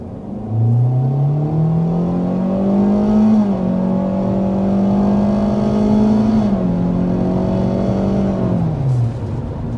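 A 2025 compact sedan, a Kia K4 or Hyundai Elantra, accelerates hard to 60 mph, its engine droning and rising in pitch through two gear shifts before easing off, loud and steady from start to finish with no talk.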